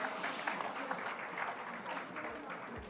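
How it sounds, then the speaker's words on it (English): An event audience welcomes a guest onto the stage with applause, a dense, even patter of clapping at moderate distance, continuous for a few seconds with a faint low rumble near the end. "Please give it a huge round of applause"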